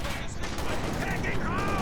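Infantry pour suppressing fire in a Company of Heroes 2 battle, a continuous crackle of rifle and machine-gun shots mixed with battlefield noise, with voices calling out under it.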